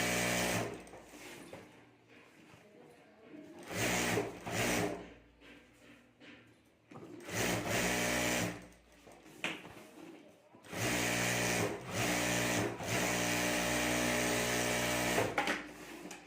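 Home sewing machine stitching around the top edges of a sling bag to join the lining, running in several bursts of rapid whirring needle clatter separated by quiet pauses.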